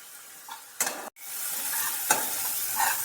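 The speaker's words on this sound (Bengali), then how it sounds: "মশলাটা আমি দেওয়ার পর একটু কষছি" Spice paste sautés in hot oil in a pan, a continuous sizzle broken by a few scraping stirs, close and moderately loud, with no talking.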